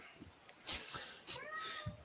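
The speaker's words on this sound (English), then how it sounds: "I've got this poxy bloody cat that keeps" A house cat meows a few times up close, short faint cries in an otherwise quiet room.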